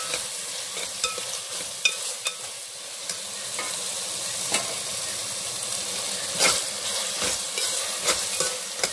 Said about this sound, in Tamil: எண்ணெயிலே போட்டு மல்லிகை புதினா கொஞ்சம் வதக்குவோம்.